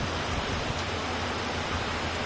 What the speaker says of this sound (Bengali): দেখেন কত সুন্দর বৃষ্টি পড়তেছে।